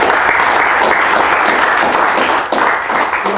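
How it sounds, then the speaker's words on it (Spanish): An audience applauds two invited speakers at the close of an arithmetic geometry talk: steady, dense clapping from a full room, loud and continuous throughout. "me gustaría que les diéramos un aplauso a Omar y a Adrián"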